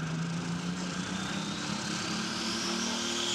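Pulling tractor at a tractor pull, its engine revving hard in a loud steady roar with a rising whine building toward the end, no talking.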